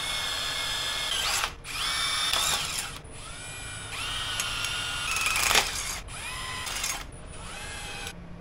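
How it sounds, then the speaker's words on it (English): A power drill whines in several bursts, revving up and down as it bores holes for a 1969 car's headlight bezel bracket, with short pauses between each run. "let's drill some holes."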